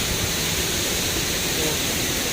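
Loud, dense broadband roar of a waterfall close by, steady and unbroken throughout with no clear talk over it.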